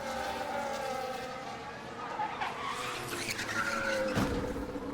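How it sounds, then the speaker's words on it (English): A Formula 1 race car skids and crashes into the wall, heard as a faint, distant tire squeal and engine whine under a steady broadcast crowd wash, with a brief thump near the end. "That is the sound of Sargent going into the wall."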